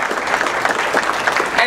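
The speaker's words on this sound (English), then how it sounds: "I'd like you to applaud them, please." Steady, dense clapping from an audience at a university Muslim Students Association welcome event, greeting the association's officers, with some voices mixed in under the close applause.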